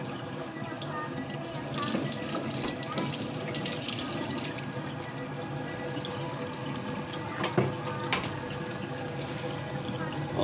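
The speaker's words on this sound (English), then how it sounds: "Water coming out." Water pouring steadily from an appliance running its cleaning cycle, a continuous splashing flow into a basin with a few louder drips and knocks, heard alone at moderate level.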